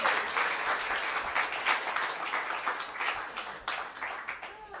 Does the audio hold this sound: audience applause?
yes